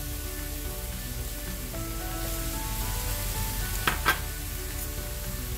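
Steak with red peppers and jicama sizzles steadily in a frying pan, loud and close, with a couple of brief stirring scrapes partway through.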